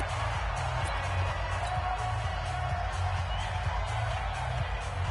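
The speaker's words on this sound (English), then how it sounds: "The crowd here in the Dome making things difficult" Dense, steady roar of a stadium crowd inside the Dome in Madden 20, a constant wash of cheering noise with low rumbling swells and no pauses.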